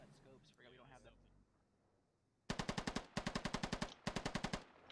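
Bursts of automatic gunfire from the military shooter Squad, loud rapid volleys in three bursts after a quieter stretch with faint voices at the start.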